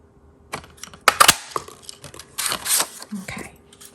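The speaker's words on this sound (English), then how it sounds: "Now we're going to take the Ladybug Builder Punch and cut these images out." Sharp crunching clicks from a Ladybug Builder Punch cutting out paper images, in a few separate bursts with short pauses between, close and fairly crisp.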